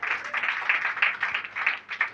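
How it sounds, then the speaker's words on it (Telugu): An audience at a church sermon claps hands together, a dense, fairly loud patter of many hands rising and falling in waves for a couple of seconds. "చప్పట్లు కొడదామా?"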